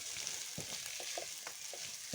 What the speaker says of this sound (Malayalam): 1/4 ടീസ്പൂൺ മഞ്ഞൾപ്പൊടി ചേർത്തിളക്കാവേ.